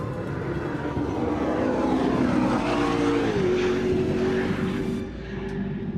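A high-revving supercar engine drones steadily with a rising, whining tone, loud and close throughout, easing slightly toward the end.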